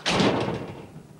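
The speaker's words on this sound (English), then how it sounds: "Yes, that was the store's door closing," A store's door at a television studio closes with a single close, heavy thud that quickly fades into room noise.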